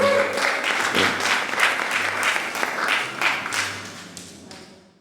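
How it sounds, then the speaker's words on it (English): Audience applause at a stand-up comedy special by Jeremy Wagner: a sustained burst of clapping from a crowd, steady then tapering off, with a few whoops and voices mixed in. "I didn't see in my notes where it said applause break, but okay, I'll take it"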